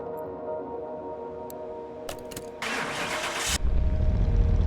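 An El Camino drag car engine cranks and catches on a dyno, a brief starter whir followed by a sudden loud, close roar settling into a rough idle.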